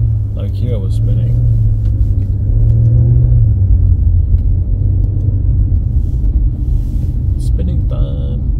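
A car driving on snow with its wheels spinning: a loud, close, steady low engine rumble that swells briefly near the middle, with short, faint, higher voice-like sounds at the start and end.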